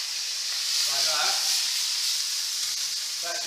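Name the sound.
water added to hot pan, sizzling and steaming vegetables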